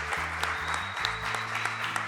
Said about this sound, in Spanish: les demos un fuerte y caluroso aplauso por eso